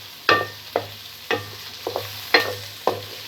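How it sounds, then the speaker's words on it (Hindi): Onions go into hot oil with browned garlic and ginger, giving repeated bursts of sizzling as they are stirred, with about six distinct scraping, spitting surges over a steady frying hiss. "अब मैं इसमें प्याज डालूँगी।"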